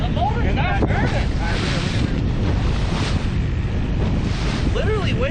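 Waves slapping against a salmon fishing boat on Lake Michigan off Milwaukee, a steady loud wash of water with heavy wind buffeting the microphone, a motor whine rising and falling faintly underneath.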